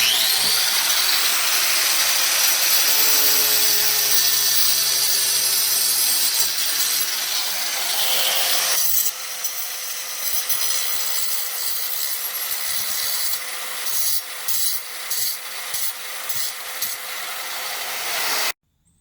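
A power saw cuts through a piece of AirStone faux stone, a loud harsh grinding rasp that changes pitch partway through, then choppy bursts toward the end before the saw cuts off.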